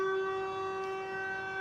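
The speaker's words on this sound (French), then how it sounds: "Il y a la sirène, on est le premier mercredi du mois." A civil defense siren sounds during its monthly first-Wednesday test, a steady sustained wail with strong tonal harmonics, heard at moderate distance without any talk over it.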